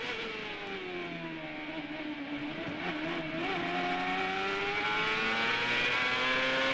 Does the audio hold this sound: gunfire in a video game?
no